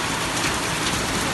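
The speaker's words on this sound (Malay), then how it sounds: "Hujan es, hujan es." Dense, steady clatter of hail pelting a hard surface, a continuous rattling patter with no pauses and no voices.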